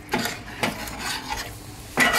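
Tamarind juice goes into a pan of stuffed brinjals, followed by short scraping stir strokes against the pan and soft bursts of sizzling and simmering at close range.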